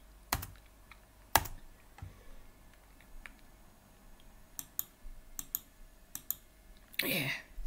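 Scattered keystrokes on a computer keyboard, a few sharp isolated clicks followed by a quicker cluster of taps, close and quiet in a hushed room, ending with a short burst of rustling noise.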